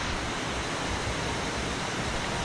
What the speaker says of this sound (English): The falls are so loud